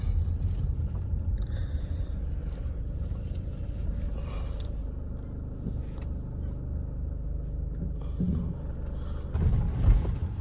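A Renault car drives over a rough, potholed road, its low rumbling road and suspension noise steady throughout, with a heavier jolt near the end; someone talks over it.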